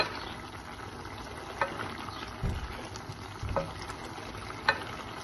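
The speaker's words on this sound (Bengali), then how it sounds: "আমি একটু নেড়ে চেড়ে দিচ্ছি" Taro stolon curry bubbling in a pan, with a low steady sizzle and a few soft knocks and scrapes from stirring.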